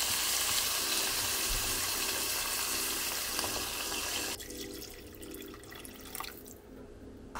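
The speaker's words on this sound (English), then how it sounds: "then you can add the water." Water pours into a pot for doenjang stew in a loud, steady rush that cuts off after about four seconds, leaving a quieter sizzle and bubbling from the pot.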